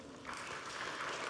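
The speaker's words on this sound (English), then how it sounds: "Let's give him a round of applause again," Brief burst of audience applause in a plenary hall at a food safety conference in Dubai, a short wash of clapping at moderate, somewhat distant level.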